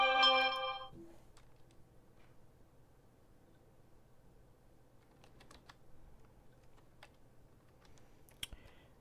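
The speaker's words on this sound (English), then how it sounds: "That was my phone, and sorry, it was probably loud." A mobile phone rings loudly for about a second with a bright, tonal ringtone burst, then the room settles into a low hum with faint scattered taps.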